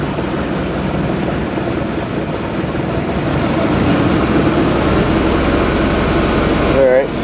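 A 3.7L MerCruiser engine in a 1984 Baretta Success 200 boat running with a dense, steady mechanical drone and throbbing low rumble, loud and close, with a brief clunk near the end as it shifts into gear.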